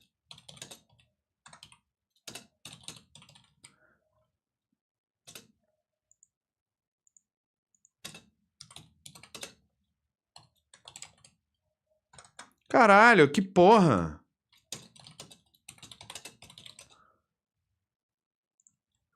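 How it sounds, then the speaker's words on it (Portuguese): Keys on a computer keyboard click in sparse, irregular bursts, fairly close, with a loud spoken outburst breaking in midway. "Odeio esse teclado."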